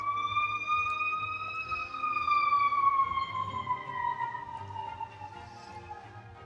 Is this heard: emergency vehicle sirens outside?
yes